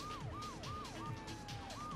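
Police car siren in the video game Grand Theft Auto III, wailing in repeated rising and falling sweeps over a low rumbling engine, loud and continuous with no talking.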